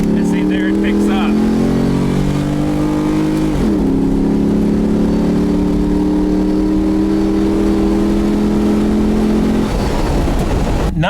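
A Rally Fighter's engine drones loudly from inside the car, then shifts and picks up into a rising pull as it accelerates, with someone talking over it at the start.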